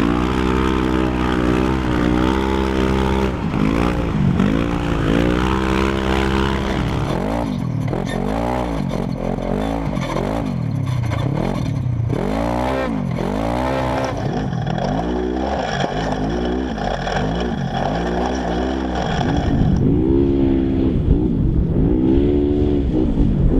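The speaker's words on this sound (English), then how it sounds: "we're going to take this stock RZR XP 1000, run a track, put it through its paces" A stock Polaris RZR XP 1000 side-by-side runs a track, its engine droning loudly and then revving up and down in rapid, repeated surges as it accelerates and slows through obstacles, before settling into a steadier run.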